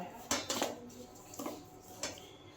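Boiled palm fruit pulp mixed in a bowl for malpoa batter, a few sharp clinks and scrapes of a utensil against the bowl in short bursts with quiet pauses between them.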